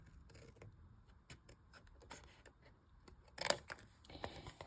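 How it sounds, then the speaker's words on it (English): Scissors cut paper along a score line with soft, quiet snips and slides, ending in a brief, sharper crisp cut. The cutting is close but faint, with no talk. "So let's go ahead and cut that off."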